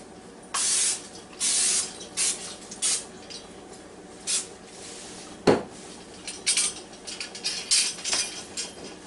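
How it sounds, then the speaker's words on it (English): Cooking spray hisses onto a copper baking pan in several short bursts of varying length, close and fairly loud. Light metallic clinks and pan handling sounds are heard between the bursts, along with one sharp knock. "let me see if I can spray this thing down a little bit"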